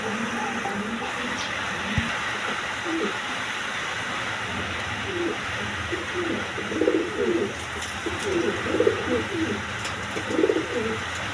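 Coloring pigeons, among them a single male, coo in low rolling bursts that grow clearer toward the end over a steady background hum.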